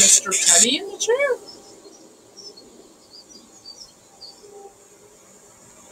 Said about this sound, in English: Those sound like birds.